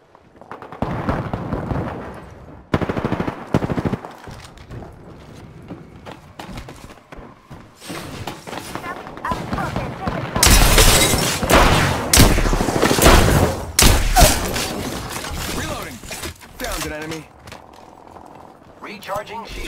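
Gunfire in the video game Apex Legends sounds as dense bursts of loud, close rapid shots, with heavier clusters in the middle, while a player talks over the action.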